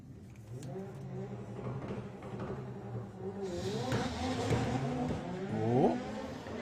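A Vauxhall Corsa drag car launches down the strip in an afternoon session at a retro drag racing event, its engine note rising steadily as it pulls away, moderately distant with crowd ambience behind.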